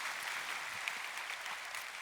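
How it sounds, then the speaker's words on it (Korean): Lecture audience applauding after a public natural-science talk at Seoul National University, a continuous even patter of many hands, steady and moderately soft from start to finish. "멋진 강연 들려주신 박건웅 교수님께 다시 한번 큰 박수 부탁드립니다."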